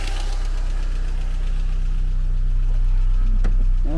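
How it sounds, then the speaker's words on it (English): A Saab 93 engine idles loudly nearby, its steady hum carrying a fast, rhythmic mechanical ticking throughout. "Now it's ticking quite bad."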